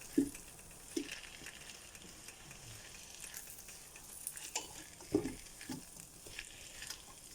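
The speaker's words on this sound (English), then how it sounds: "we're just going to just fry this off just for a minute or so" Shredded potato and onion fry in a pan with a soft, steady sizzle, broken by a few light taps and clinks of a utensil.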